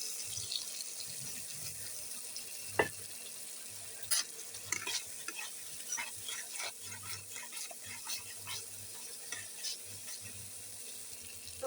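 Chili, cumin and ginger paste fries quietly in oil with a light sizzle and scattered stirring clicks and taps. Nobody talks.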